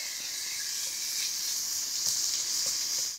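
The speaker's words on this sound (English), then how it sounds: "we're going to go ahead and brown our ground beef and get it all seasoned up" Ground beef browns in a pan with a continuous close hiss and sizzle, with a few faint clicks and a cutoff at the very end.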